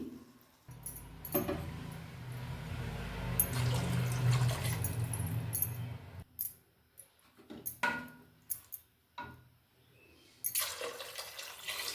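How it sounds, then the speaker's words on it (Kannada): Three glasses of water are poured one after another into a cooking pot while making fenugreek-leaf rice: a steady splashing pour, then a few separate splashes and clinks of the glass against the pot, with no talking. "ಇವಾಗ ನಾನು ಈ ಗ್ಲಾಸಲ್ಲಿ ಮೂರು ಗ್ಲಾಸ್ ನೀರು ಹಾಕ್ಕೊಳ್ತೀನಿ"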